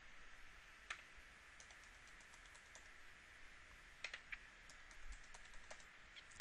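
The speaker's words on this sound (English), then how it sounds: "So I'm going to type in my new password." A new password is typed on a computer keyboard as a scattering of soft, quick key clicks in small bursts, faint and close, with no talk.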